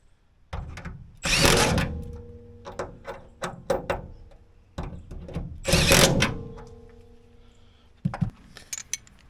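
Power tool running in several short bursts while bolting heavy-duty hood latches onto a Jeep, two longer whirring pulls and many quick clicks and taps between them, close and fairly loud with no talk.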